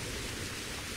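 Steady rain from a stormy video-game thunderstorm hisses as a dense, even wash of noise, loud and unbroken with no distinct thunder clap.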